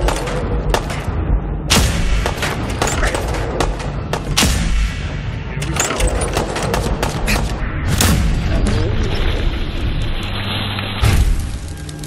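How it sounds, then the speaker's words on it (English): Laser musket from Fallout 4 is cranked and fired amid a loud, dense firefight, with repeated sharp blasts and booming impacts over a constant rumbling battle din, and no voices. "This laser musket is one of our signature weapons in the game."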